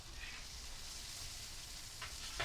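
Bacon frying in a pan for a breakfast scramble with onions, a soft continuous sizzle and crackle at low level, with no talking.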